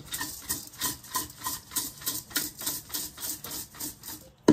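Fried rice being stirred and tossed with black pepper powder in a pan, a steady rhythmic scraping and rubbing repeated about twice a second, close and fairly quiet with no talk.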